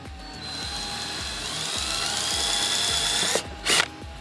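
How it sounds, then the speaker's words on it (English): A power drill with a 15/64 bit bores a hole while fitting an M Sport style front lip to a 2013 BMW 335i, heard as a steady close whirring drone rising in pitch, ending with brief louder bursts as the bit breaks through. "when I push everything into place, I'm gonna drill that hole out. So for this, I am using a 15/64 bit"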